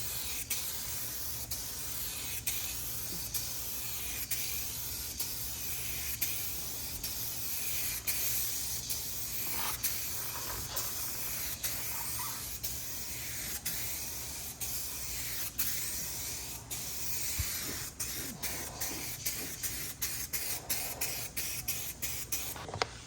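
A spray can lays a coat of paint on a car panel during rust repair, giving a steady close hiss in repeated even passes, then a run of short spurts near the end.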